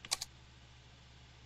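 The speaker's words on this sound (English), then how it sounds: "Okay, keyboard." A quick burst of three light keyboard clicks, faint and close, then quiet room hiss.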